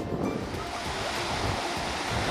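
Sea surf rolls in at Sehwa Beach on Jeju's east coast, a steady broadband wash of breaking waves mixed with wind buffeting the microphone, loud and continuous with no voices.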